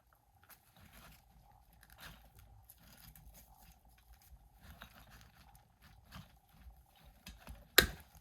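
Cutters trimming a thick plant stem for a patriotic bicycle wheel wreath, faint crunching and scraping bites through the stem, ending in one sharp loud snip.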